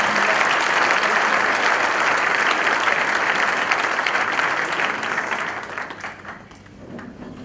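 Loud, sustained applause from a church congregation at a Friday service, a dense wash of clapping that holds steady before thinning and fading toward the end.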